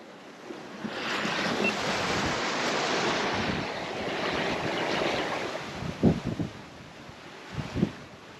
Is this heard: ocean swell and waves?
yes